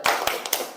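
A classroom of students claps a rhythmic 'tepuk semangat' spirit cheer, several close, sharp clap bursts in a quick pattern.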